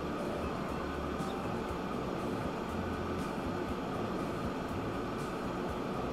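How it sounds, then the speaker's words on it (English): A train rolls past in the Transport Fever 2 video game, a steady loud rumble of wheels and carriage noise filling the whole clip, close and continuous, with no talking. "the other train on the same line"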